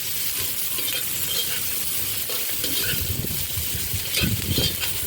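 Sliced carrot frying and being stirred in a pan for a Ukrainian rassolnik soup, giving a steady close sizzle with scraping spoon strokes and clinks that grow louder toward the end.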